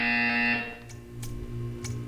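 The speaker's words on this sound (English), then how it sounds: "When you hear the buzzer, stare at the art." A harsh electronic buzzer sounds in the Portal 2 video game, a loud steady tone that cuts off after half a second, followed by low humming and a few faint sharp clicks.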